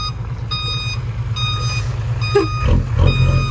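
A vehicle shifted into reverse gear sounds regular, evenly spaced reversing beeps that repeat steadily over a low rumbling engine.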